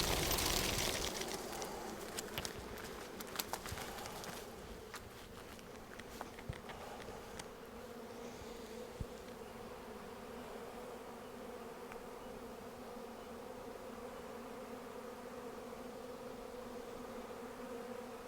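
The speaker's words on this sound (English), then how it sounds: "This is a pretty small swarm for how big that hive was." A small swarm of honey bees buzzing outdoors, a continuous droning hum with brief clicks and rustles early on, steady and moderately close for the whole stretch.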